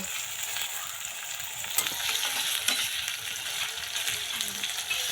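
Garlic paste and ginger paste frying in a pan for a Bengali roast, with a continuous close sizzle and a few sharper stirring scrapes.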